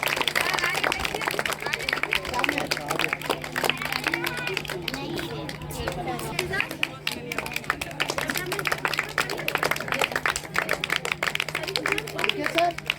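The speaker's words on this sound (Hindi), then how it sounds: "अरे आप लोग भी बजाइए ताली।" Audience at a St Michael's School Lakhisarai program on 25 December 2023 clapping in dense, continuous applause, with crowd chatter and voices mixed in throughout.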